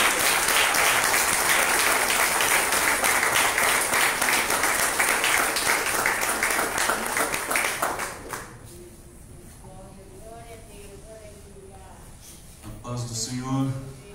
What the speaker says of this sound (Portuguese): Eu quero que você receba o servo de Deus aplaudindo Jesus agora